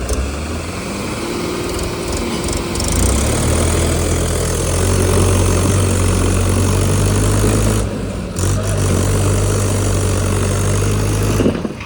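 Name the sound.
tractor engine running while pulling a stuck truck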